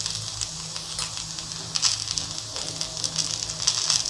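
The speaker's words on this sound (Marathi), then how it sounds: "खसखस, जिरं टाकून परत परतून घेऊ" Poppy seeds, cumin and sesame stir-frying in a pan for masala stuffed eggplant give a steady soft sizzle with faint crackles, no talking.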